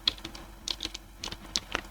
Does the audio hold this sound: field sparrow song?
no